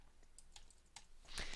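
Light typing on a computer keyboard during a Cisco network configuration, a few soft separate key clicks followed by a slightly louder flurry, quiet and close.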